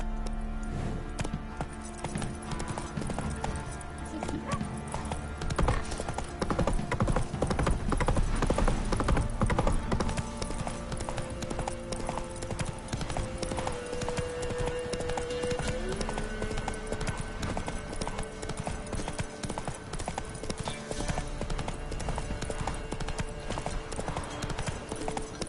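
Roach, Geralt's horse in The Witcher 3: Wild Hunt, gallops in a steady rapid clip-clop of hooves that runs the whole stretch, with game music and ambience layered underneath.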